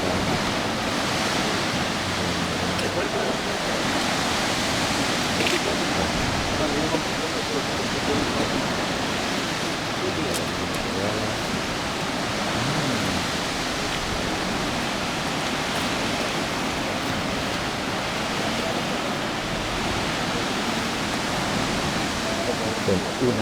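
Sea water surging into a coastal cave near Grotta di Nettuno, heard as a continuous broad rushing wash of surf that stays steady from start to end.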